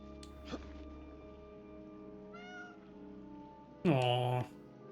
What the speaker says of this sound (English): Brave kitty.